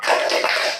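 A classroom of pupils performs the 'tepuk semangat' rhythmic clapping chant, a dense, fast patter of many hands clapping together at close range, loud and steady for under a second.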